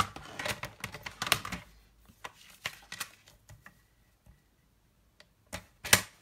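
Cardstock being trimmed on a paper trimmer for card making, sharp close clicks and snaps in uneven bursts with quiet gaps between, and a loud final snap near the end.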